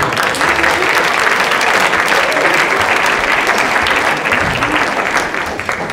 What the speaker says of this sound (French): C'est la contrebasse que je vous demande d'applaudir.